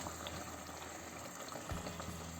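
Hot water pours steadily into a pot of leeks and carrots on the stove, giving a continuous close bubbling, hissing wash with a brief splash near the end.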